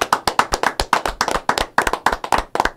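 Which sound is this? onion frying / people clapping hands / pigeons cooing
people clapping hands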